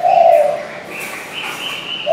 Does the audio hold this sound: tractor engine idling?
no